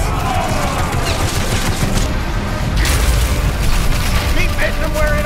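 Cannon fire and explosions rumble in the Battlewake VR pirate naval battle game, a dense, loud barrage of booms and blasts over continuous background noise throughout.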